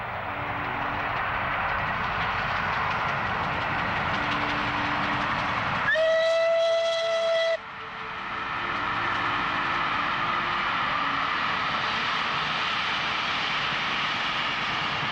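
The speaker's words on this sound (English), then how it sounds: "This is Tor Valley running like a Rolls-Royce at 75 miles an hour, the maximum permitted for steam" The Taw Valley steam locomotive races along at 75 mph with a constant rumbling roar. Midway, a clear whistle blast of about a second and a half cuts through, then the running noise carries on.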